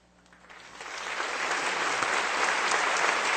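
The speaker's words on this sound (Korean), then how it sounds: "이 시간 잠시 일어나 인사하실 때 성도님들께서는 따뜻한 박수로 환영해 주시기 바랍니다" A church congregation breaks into warm applause that swells from a light patter into steady, full clapping from many hands, continuing for several seconds.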